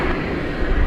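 A Boeing 787-9 Dreamliner at Dallas Fort Worth airport at night, a steady broadband jet engine roar, fairly loud and continuous with no voices.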